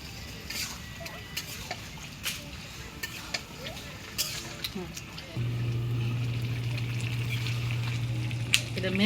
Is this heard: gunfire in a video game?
no